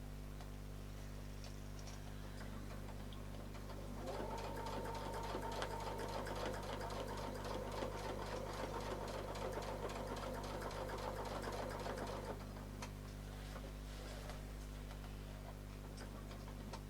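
A sewing machine runs a steady stitching pass while curved circles are pieced for an artisan quilt, a fast even needle chatter that swells for several seconds and then eases back to a quiet idle hum.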